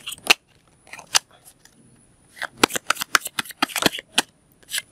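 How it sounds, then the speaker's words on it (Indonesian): Playing cards being shuffled by hand during a card magic trick, close and crisp riffling bursts, one early pair, then a quick run of rapid snapping shuffles after a short pause. "Setelah itu kita kocok ya, seperti ini atau gini terserah ya."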